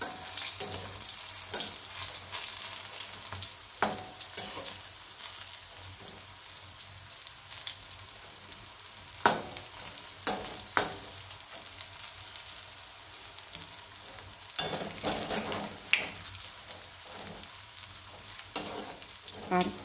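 Vegetable pakoras fry in hot oil with a steady crackling sizzle, with occasional sharper pops and spatters, close and continuous.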